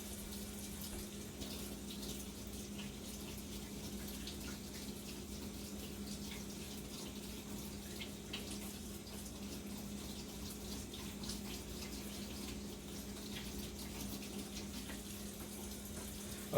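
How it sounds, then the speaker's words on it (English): Tap water running steadily into a sink while a cake knife is rinsed after slicing a New York cheesecake, a faint, even hiss and trickle with no break throughout. "So I'm going to rinse this off"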